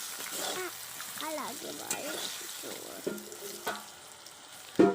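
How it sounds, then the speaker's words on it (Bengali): Salted eggplant frying uncovered in a wok, a soft continuous sizzle with a few utensil clinks and a louder knock at the end, while someone talks over it. "দেখুন আমার বেগুনটা এরকমভাবে ভাজা হচ্ছে"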